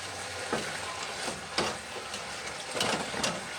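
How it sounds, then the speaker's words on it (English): A vegetable stir fry for peanut sauce sizzles in a pan as it is stirred, a soft steady hiss broken by several scraping strokes of the utensil at irregular intervals. "So go ahead and give that a stir"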